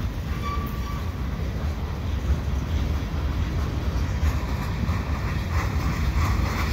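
A slow CN freight train rolls by on the nearer track at St Henri, a steady loud rumble of wheels and rail noise running unbroken throughout, with no voices.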